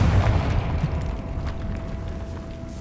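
A Confringo blasting spell goes off in Hogwarts Legacy: a heavy, booming explosion opens loud and rumbling, then decays into a low, fading roar over about three seconds.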